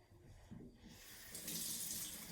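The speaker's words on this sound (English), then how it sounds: "what I'm going to do is I'm just going to rinse it out." Tap water runs into a kitchen sink, rinsing out a freshly plucked and gutted chicken; a steady, close splashing hiss that grows fuller and louder partway through.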